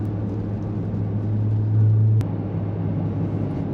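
A VW Mk8 GTI engine drones low and steady under load, swelling briefly near the middle before cutting back to a constant rumble.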